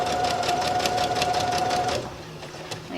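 A sewing machine stitches a simple skirt in steady, fast whirring bursts, loud and close, then slows and quiets over the last second.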